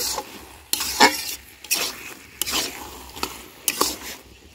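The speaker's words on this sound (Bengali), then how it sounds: "চিনিটা দিয়ে ভালো করে নেড়ে নেব" A spoon stirs a taro-stem and prawn curry with sugar in a pan, giving repeated scraping strokes and clinks over a low, steady sizzle, close by.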